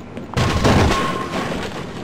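An explosion in the Half-Life mod Visitors, a sudden broadband boom that starts sharply and then rumbles and decays over about two seconds, loud and alone with no talk.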